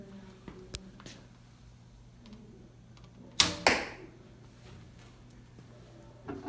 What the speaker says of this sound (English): This thing whacks. You hear it when it hits the board?